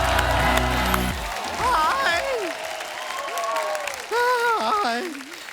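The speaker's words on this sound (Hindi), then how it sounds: "जोरदार तालियां हो जाए" Studio audience at a comedy show applauds, with a loud burst of clapping in the first second that gives way to cheers and whoops rising over a busy crowd.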